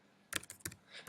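Quick, soft keystrokes patter on a computer keyboard, a few irregular taps close by and alone.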